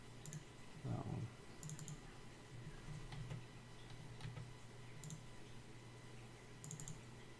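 Computer mouse clicks while working in SolidWorks, quiet scattered ticks in small irregular bursts, faint and close against a low background hum.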